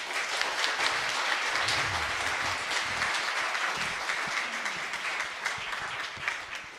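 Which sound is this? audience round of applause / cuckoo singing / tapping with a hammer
audience round of applause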